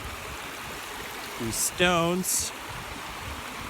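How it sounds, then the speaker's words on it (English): A river runs through parkland in Kyoto in winter, a steady, even rush of flowing water under a brief spoken phrase from a man nearby. "features a river that runs through it"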